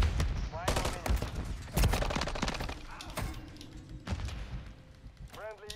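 Rapid gunfire bursts in a first-person shooter, with the MCW rifle mentioned, rattling in repeated volleys across the clip while someone talks over the shooting.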